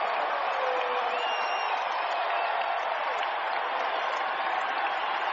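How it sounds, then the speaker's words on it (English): A basketball arena crowd in a 2001 playoff game between the 76ers and Pacers roars with sustained cheering and applause after a defensive steal, a steady dense wash of noise throughout. "the crowd is excited by that kind of defensive attitude"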